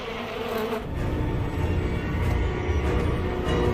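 Swarm of bees buzzing at their nest in a film, a dense continuous drone that stays close and loud throughout with slight swells.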